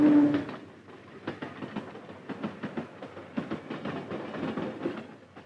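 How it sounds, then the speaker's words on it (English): A freight train rumbles past with rhythmic clickety-clack of wheels on rail joints, steady and fairly close, with no voices. "trains were chartered from the Santa Fe Railroad for the journey"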